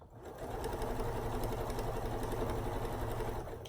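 A sewing machine runs steadily while stitching fabric with a quarter-inch foot, a close, even mechanical whir at low volume with no pauses.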